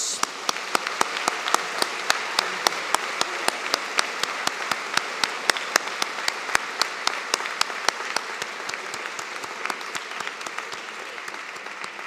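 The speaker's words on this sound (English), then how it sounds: "Please join me now in acknowledging them with a round of applause." Sustained applause from a large audience at a university spring convocation ceremony, a dense, even wash of clapping with sharp individual claps standing out, continuing steadily throughout.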